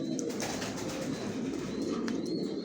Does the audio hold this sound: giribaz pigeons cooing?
yes